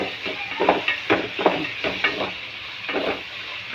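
Whole cumin, fenugreek, tomato, green chilli and garlic sauté in hot oil for a fish curry, with a continuous close sizzle broken by regular scraping bursts from spoon strokes in the pan.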